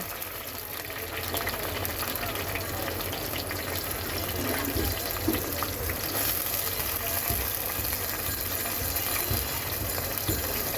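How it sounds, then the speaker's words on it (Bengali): Yardlong beans frying in a pan give a steady, close, dense sizzle that holds evenly throughout, with occasional faint clinks and stirring underneath. "এখন ভেজে নেব বরবটি"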